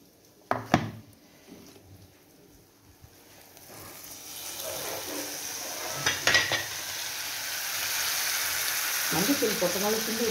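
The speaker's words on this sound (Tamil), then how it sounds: "தண்ணி கொஞ்சம் அப்சர்வ் ஆகிறதுக்கு கொஞ்சம் கிண்டிக்கலாம்." An ivy gourd chutney with turmeric is stirred in a hot pan, with a few sharp scrapes of the spoon at first and then a steady, growing sizzle of frying.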